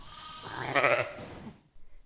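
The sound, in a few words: sheep bleating on a farm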